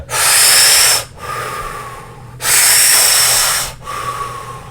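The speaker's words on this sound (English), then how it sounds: "I do it in and out through my mouth. So it sounds like this kind of thing." Two long, forceful breaths in and out through the mouth, loud and close, each inhale rushing followed by a slightly softer exhale.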